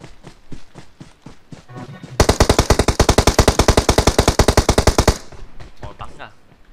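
Rapid automatic gunfire rattles in a fast, even burst of about three seconds, loud and close, with voices talking before and after the shooting.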